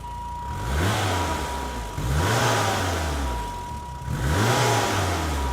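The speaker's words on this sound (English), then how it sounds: "But I'll go around back while you throw a couple of revs at it." A BMW 3 Series engine, not stock, revs three times in a row, each rev climbing and then falling back toward idle, loud and close.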